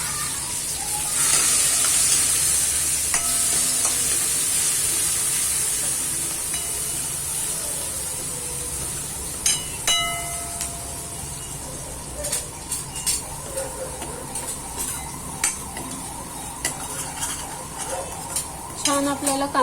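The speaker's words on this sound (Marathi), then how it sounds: "छान आपल्याला कांदा परतून घ्यायचा आहे।" Chopped onion sizzles and hisses in a pan for dal dhokli, a continuous frying hiss broken by the scrape and clink of a spoon stirring against the metal, growing busier toward the end.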